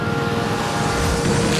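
Race cars roaring in a steady, loud engine drone, with Burton driving a black car and Bryant a gray one, wind noise over the mic and no talk.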